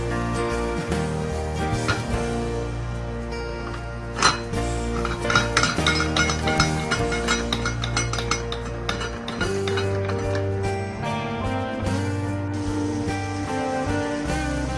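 Pots and metal utensils clank and clink in a kitchen as a pressure cooker of cooked daal mash is opened, with sharp knocks and a continuous tonal hum underneath.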